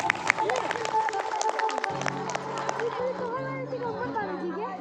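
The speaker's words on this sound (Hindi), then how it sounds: "ताली बजाओ एक बार।" An audience at a spoken religious discourse claps in a quick, scattered burst under a talking voice and a steady musical drone, then the clapping fades as the voice carries on.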